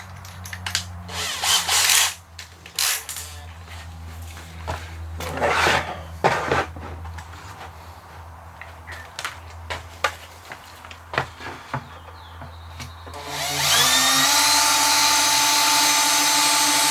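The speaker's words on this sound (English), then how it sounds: "I grabbed the dullest drill bit I had in my garage." A power drill fitted with a dull bit, used in a barn being set up for ducklings. Clattering and handling noises come first, then the drill spins up near the end into a loud, steady grinding whine that lasts to the close.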